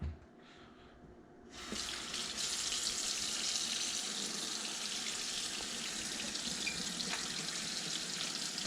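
Tap water suddenly starts and keeps running steadily, a close, hissing stream that fills the rest of the clip.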